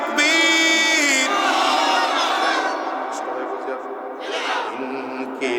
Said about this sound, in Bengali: আওয়াজ দিয়ে আরো জোরে চিল্লা লিল্লাহি তাকবীর